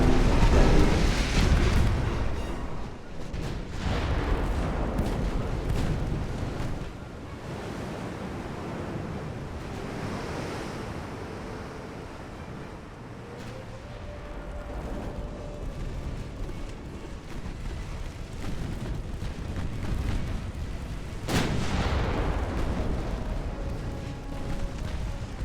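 Warship main guns firing during a naval battle in Ultimate Admiral: Dreadnoughts with 1890s-era hulls: several heavy booms spaced seconds apart, each rolling off into a long rumble over a constant sea-and-wind roar.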